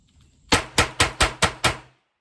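Ruger LCR revolver chambered in 327 Federal, fired as a bill drill with 32 ammunition: six sharp, loud shots in quick, even succession over about a second and a half, then silence.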